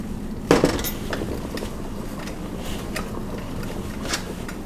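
A metal pasta pot set down on a home stove gives one clear clunk near the start, followed by faint clinks and handling noises in a quiet kitchen.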